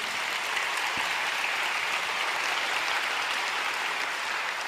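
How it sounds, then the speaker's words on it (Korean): Sustained applause from a church congregation at a Korean diaspora mission conference, a dense, even wash of clapping that holds steady at a moderate level throughout with no voices on top. "우리는 이 하나님께 영광의 박수를 돌리지 않을 수가 없습니다"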